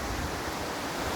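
A waterfall at Poço Azul, the Blue Well, in Brazil's savanna gives off a steady, dense roar of rushing water. It stays close and loud throughout, with no voices.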